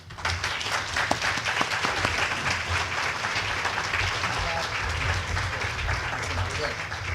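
An audience in a hall claps steadily to welcome Lance Robertson to the stage. The sustained applause is dense and even, holds throughout and fades only slightly.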